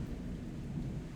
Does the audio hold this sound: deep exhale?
no